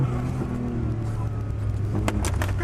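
A Nissan Silvia drift car slides around a track in Japan, its engine droning steadily with a buzzing note while tyre scrabble and sharp bursts break in near the end, with people talking over it.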